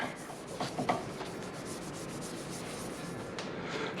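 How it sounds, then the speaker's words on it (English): Soft, close rubbing as Howard Feed-N-Wax is worked onto a dense maple burl turning, a quiet continuous scuffing with a few brief louder strokes early on. "So I'm going to put Howard Feed and Wax on the entire piece"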